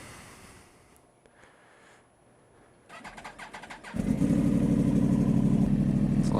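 A Yamaha R1 motorcycle with a freshly flashed ECU cranks with a quick whirring starter, then fires and settles into a loud, steady, close engine rumble.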